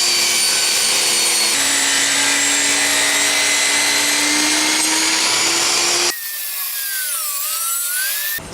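A table saw trims the edges of cedar tabletops, the motor whining loudly and steadily while the blade grinds through wood, then the pitch shifts as the cut ends and the blade keeps spinning.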